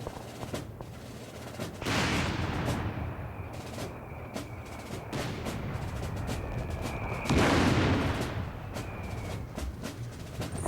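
Oberkommando mortar in Company of Heroes 3 firing amid battle, two heavy booming blasts with long noisy tails standing out over scattered gunfire cracks and a low rumbling backdrop.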